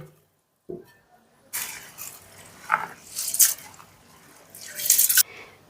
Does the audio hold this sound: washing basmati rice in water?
yes